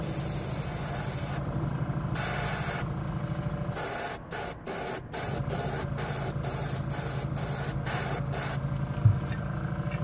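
A Badger airbrush sprays Stynylrez primer at 20 PSI onto a model body, a steady close hiss of air and paint broken by several brief trigger stops before the spray resumes.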